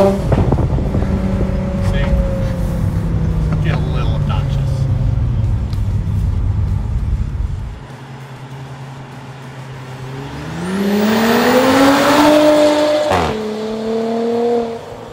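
Audi S5 fitted with a VPS Tuning pre-muffler delete exhaust, driving: a loud, steady engine drone that drops back, then rises sharply as it accelerates through the revs before easing off again.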